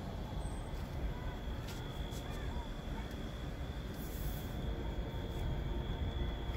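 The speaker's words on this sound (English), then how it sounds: "I hear a train." Low, continuous rumbling of a passing train with a steady rolling roar and faint high-pitched squeals above it, no voices.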